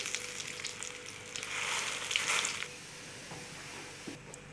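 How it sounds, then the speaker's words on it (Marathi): Chillies dry-roasting in a pan for Maharashtrian kala masala make a soft crackling sizzle that swells in the middle and then fades, with a few light clinks near the end and no talking. "थोड्या थोड्या करूनच भाजायच्या मिरच्या, म्हणजे चांगल्या भाजल्या जातात"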